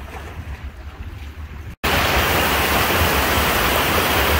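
Ocean surf along a rocky cove washes in as a steady, loud, broadband roar, quieter at first, then suddenly fuller after a brief cut.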